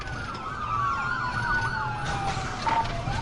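An ambulance siren wails with a rising and falling electronic tone at moderate distance, steady and continuous over road and crowd background noise.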